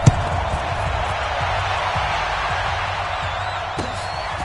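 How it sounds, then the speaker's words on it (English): A stadium crowd cheering at a Redskins football game at FedEx Field, a broad steady roar of many voices with scattered claps and whoops, heard at a distance and sustained throughout. "this crowd is pumped up as their Redskins get set to match up with the Houston Texans"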